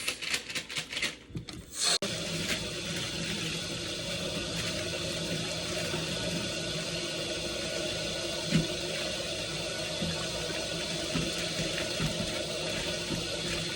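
Potatoes being washed under a running kitchen tap, a steady stream of water splashing continuously and fairly close, with a few sharper splashes and knocks at the start and no talking.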